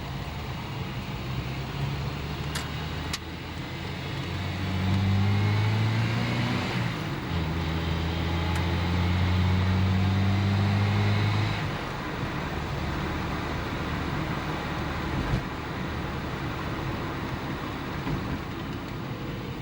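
A 1991 Hillman Avenger car driving with a steady engine drone and road noise, the engine tone rising and falling as it changes gear, heard from inside the cabin with no talk.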